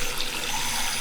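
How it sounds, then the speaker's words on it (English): Water runs steadily from a newly connected sink tap in a converted shed, a continuous close hiss and splash with no voices. "I could hook up the sink to the water supply, and now we have working water."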